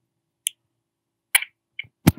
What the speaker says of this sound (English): I do two claps so I know when I'm going to start speaking